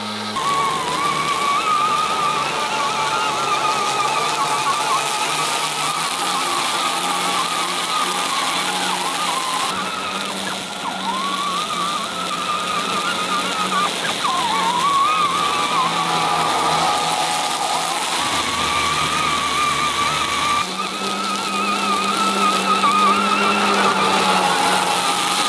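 A tractor engine runs steadily on a farm field before mowing, a close, continuous mid-pitched drone that dips briefly in tone partway through and then carries on without talk.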